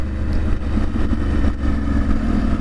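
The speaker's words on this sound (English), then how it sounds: "the effect has been a very, very slight increase in exhaust noise" A KTM motorcycle runs with the baffle removed from its decat exhaust pipe, producing a loud, deep, steady rumbling drone close by, with slight pulsing in the low end and no voices.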